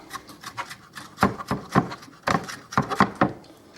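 A knife chops Chinese chicken wonton filling ingredients finely on a board, giving a quick series of crisp, close taps in uneven bursts at moderate volume.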